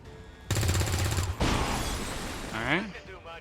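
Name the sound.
soldiers shooting at an enemy in the video game XCOM 2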